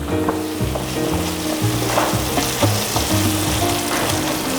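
Broth poured into a pan of sizzling leek and arugula risotto over medium-high heat, a loud continuous frying hiss with stirring scrapes and bubbling, no talking.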